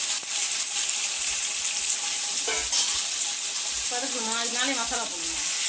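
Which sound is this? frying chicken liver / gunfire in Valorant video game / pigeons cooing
frying chicken liver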